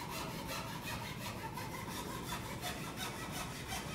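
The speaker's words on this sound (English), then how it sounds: "I'll just rest my feet on the saw vise, and I'll just start cutting." A hand saw cuts through wood held in a saw vise at a woodworking class, its strokes a steady, rhythmic rasp at roughly three per second, close and continuous with no talk.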